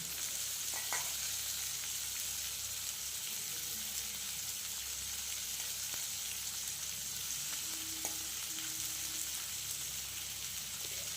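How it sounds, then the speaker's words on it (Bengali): Thick onion slices frying with kohlrabi and potato in a pan give a steady, even sizzle with a few faint clinks of stirring. "এই মোটা মোটা করে কেটে রাখা পেঁয়াজের স্লাইসগুলোকে দিয়ে এগুলোকে এবার ওলকপি আর হচ্ছে আলুর সাথে এগুলোকেও ভালো করে ভেজে নেবো"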